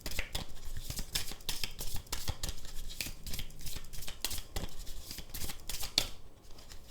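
Tarot cards shuffled and drawn by hand, a steady run of quick papery riffles and flicks, close and fairly quiet, with no talking.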